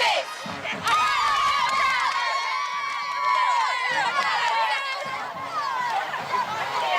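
Hampton cheerleaders and the crowd at a football game, high excited shouts and cheering voices layered over rhythmic thumping steps, lively and sustained with chatter mixed in.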